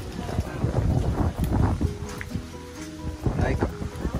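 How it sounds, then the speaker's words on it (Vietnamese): Strong wind blows outdoors at Buôn Đôn, a gusty, rumbling buffeting that pulses in waves, heard under someone speaking. "Ở Buôn Đôn hôm nay gió rất là to."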